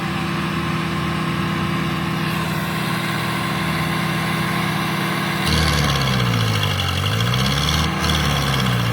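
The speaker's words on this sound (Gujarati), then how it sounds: "4 વ્હીલ ટ્રેક્ટર 4 વ્હીલ ટોલું ફૂલ તાકાત કરાવેલા છે" A heavy Powertrac four-wheel-drive tractor engine roars continuously at full power, close and loud, its pitch rising and falling midway as it strains under load.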